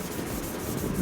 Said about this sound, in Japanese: 1000番よりもちょっと広めに研いで、1000番の傷を消すのと、ちょっとぼかし研ぎですね